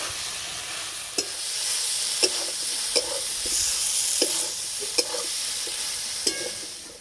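Fried potatoes and soybeans are stirred into a sizzling spice paste in a pan, with a steady frying hiss broken by several sharp scrapes of a spoon at irregular intervals and no talking.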